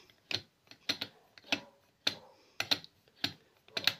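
A part of a Delonghi ESAM04.110 coffee machine being unscrewed makes quiet, close, irregular clicking ticks, about a dozen sharp ratchet-like clicks in a row.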